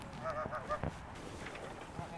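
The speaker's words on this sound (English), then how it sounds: "We got some Siberian red-breasted geese here." Siberian red-breasted geese honking nearby in a short burst of several quick, bright calls, followed by quieter background noise and faint movement.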